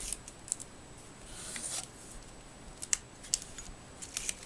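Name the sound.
scissors cutting a card box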